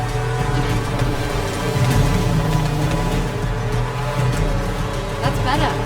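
A car driven in the video game 007 First Light, its engine droning steadily with tire noise throughout, loud and continuous, with game music or effects layered over it.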